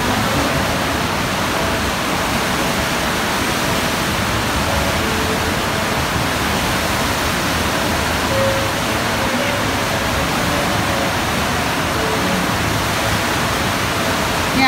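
Steady, broadband rush of river rapids on the Cuyahoga Falls River, a continuous roar of churning water with no pauses, loud and close, with faint voices beneath it.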